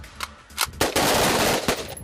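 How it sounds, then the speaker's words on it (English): Loud bursts of gunfire at a shooting range, a few single shots followed by rapid continuous firing, sharp and close with a ringing echo. "Gunfire rings out at the range and inside mock buildings."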